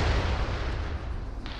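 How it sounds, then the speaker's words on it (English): A rocket launched in a video game, a dense, loud rumbling blast that fills the whole short stretch, with a sharp crack near the end. "Rocket."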